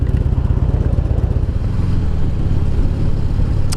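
Motorcycle engine fitted with new injectors idling smoothly, a steady close throbbing pulse that holds loud and even throughout, with no talking.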